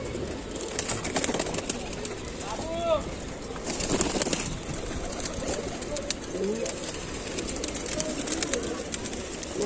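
Soft pigeon cooing sounds amid a busy outdoor background of rustling and distant noise at a pigeon sale, with a few brief calls standing out.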